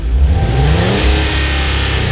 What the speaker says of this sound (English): Now meet the sound of velocity, the Ferrari 812 Superfast.